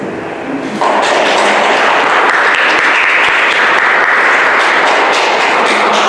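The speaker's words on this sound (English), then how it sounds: "let's give another round of applause for our second panel" A symposium audience breaks into loud, sustained applause that swells suddenly after the first second and holds steady to the end.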